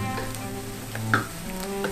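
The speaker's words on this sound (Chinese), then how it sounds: "记得香菇一定要慢慢的用温油慢慢的煎它，它的香气才会出来" Diced shiitake mushrooms fry slowly in warm oil in a vegan home kitchen, giving a steady, close sizzle throughout with a few faint stirring clinks on top.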